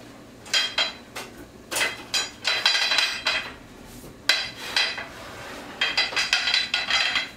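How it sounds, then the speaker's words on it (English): Metal clanks, knocks and clinks from handling a small All-American pressure cooker, the 16 size, in a home kitchen: repeated close, sharp taps and rattles in irregular bursts, with no talk. "It's time to get the pressure cooker ready."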